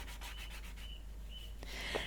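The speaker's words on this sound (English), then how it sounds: "I'm going to give the sides and the front a very light sanding" Fine sandpaper is lightly rubbed across wood in soft, repeated strokes. The hiss is gentle over a low steady hum and ends in a slightly stronger final pass.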